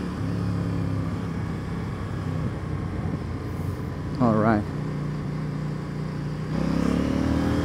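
CF Moto NK800 naked motorcycle ridden on the road, its engine droning steadily and then pulling harder as it accelerates near the end, with a short spoken remark from the rider over the engine and wind.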